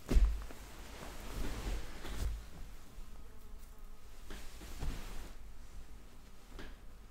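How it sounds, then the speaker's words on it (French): Flies buzzing close to the microphone in a quiet indoor ASMR setting, a soft continuous drone that swells and fades as an insect passes, with a few faint knocks and no talking. "ça attire les mouches"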